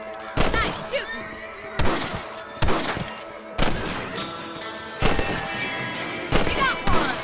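Repeated gunshots ring out while hunting rabbits in the Red Dead Redemption video game, about six loud sharp cracks at roughly one-second intervals over a busy background.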